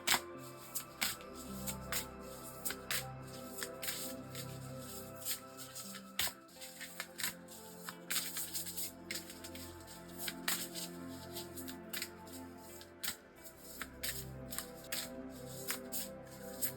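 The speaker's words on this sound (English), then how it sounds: "So we're gonna actually shuffle this deck next." A deck of tarot cards shuffled by hand, with a soft, steady riffling and rustle that runs quietly and continuously in the foreground.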